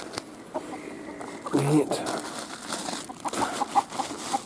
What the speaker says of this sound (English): Dang chickens are digging in my junk